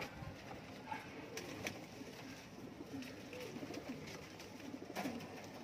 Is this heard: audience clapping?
no